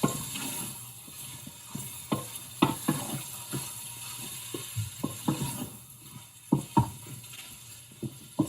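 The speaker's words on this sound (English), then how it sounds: "Just mix everything together." Chicken stirred with curry seasoning in a pot, with soft sizzling under repeated scraping and clinking of a utensil against the pot in an irregular rhythm, close by and fairly quiet.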